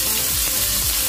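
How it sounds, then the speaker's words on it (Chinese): Tomato-sauce shrimp pieces pan-frying in a wok over high heat, giving a steady, close hiss and crackle of sizzling oil throughout, with faint scraping underneath and no talking. "我哋就可以反转面再煎"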